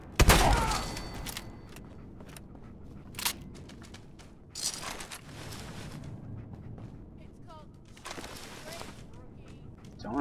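Gunfire in Fallout 4 crackles in scattered bursts, with a heavy opening shot and further shots through the clip, mixed with background game noise.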